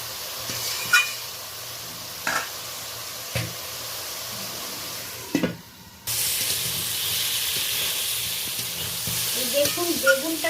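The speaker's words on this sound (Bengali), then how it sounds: "হলুদটা দিয়ে বেগুনটাকে আমি কালো জিরে ফোড়ন দিয়ে ভেজে নিচ্ছি।" Small white garden eggplant frying with turmeric and black cumin seeds, a constant close sizzle with occasional utensil knocks, a brief pause, then louder hissing and bubbling oil.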